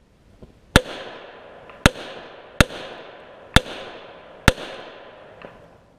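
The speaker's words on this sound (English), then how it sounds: "we put 7 rounds of 45 ACP into the duct tape spall liner" Five .45 ACP pistol shots fired into a box lined with duct tape as a spall liner, sharp loud reports spaced about a second apart, each trailing off in a short echo, with no talking.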